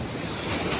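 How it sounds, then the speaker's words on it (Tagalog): Strong ocean waves surge and break close by at dusk during a fishing outing, a loud continuous wash of surf with heavy wind buffeting the microphone. "Malakas na rin kasi yung alon."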